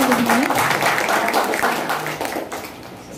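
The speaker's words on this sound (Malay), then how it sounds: "Tepuk tangan untuk semuanya" An audience at a book discussion event claps in a dense, fairly close burst that fades toward the end, with a bit of voice mixed in.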